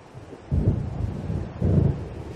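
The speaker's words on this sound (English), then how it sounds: "It seems there's a storm coming." Thunder from an approaching storm in Alan Wake rolls in two deep, rumbling swells, each lasting about a second. It is fairly loud over a steady low ambient bed, with no voices.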